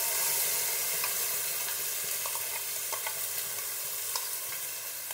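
Ground spice paste hits a pan with pangas fish and sizzles in a dense, steady hiss, with occasional faint clinks of a spoon.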